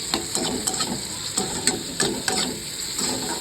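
Spiced dal and spinach masala with turmeric, chili powder and salt is sautéed in a pan, producing a low sizzle under a rhythmic series of spatula scrapes and taps.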